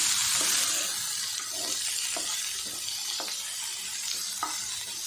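Green tomato pieces and coconut sautéed in a pan for chutney, a steady sizzle with spoon strokes scraping through at a regular pace, close and continuous.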